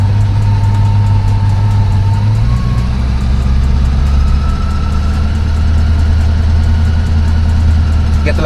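Supercharged 700 hp C8 Corvette running on a dyno, its engine droning steadily and loud throughout with a low rumble, the pitch stepping up slightly partway through as it is given a little gas.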